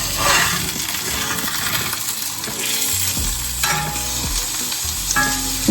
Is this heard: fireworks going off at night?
no